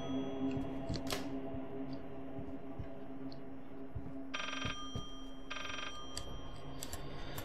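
A telephone rings twice inside the horror game Layers of Fear on PS4: two short electronic trills in quick succession over a low, droning ambient hum and scattered faint knocks.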